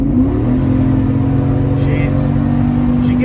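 An electric car fitted with an Ultimate9 EVCX throttle controller pulling at wide open throttle, a loud, steady motor whine holding a sustained tone with a people talking over it.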